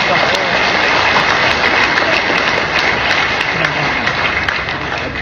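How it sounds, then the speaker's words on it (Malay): Audience applause at a political event, a dense, even wash of clapping that holds steady for several seconds with a faint tonal hum underneath. "berikan tepukan kepada mereka"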